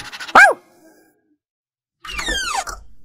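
A puppy gives two sharp barks separated by a pause of silence, loud and close, the second a higher, stretched yelp.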